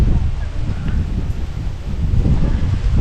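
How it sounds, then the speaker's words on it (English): Wind blowing outdoors in Butchart Gardens in Victoria, Canada, roaring and gusting into the microphone as loud, steady low rumble with rustling throughout. "Wind's picking up."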